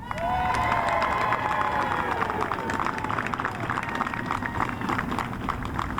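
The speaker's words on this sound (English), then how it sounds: "these men have earned another round of your applause" A standing crowd at a Pittsburgh Bureau of Fire academy graduation ceremony breaks into loud, sustained applause and cheering, with high whistles and shouts over dense clapping that holds steady throughout.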